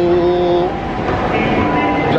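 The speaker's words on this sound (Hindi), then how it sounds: "जा रही है भाई मेट्रो हमारी।" A metro train pulls away from the platform with a steady, loud rolling rumble and a high motor whine, the rush of the cars filling the whole moment.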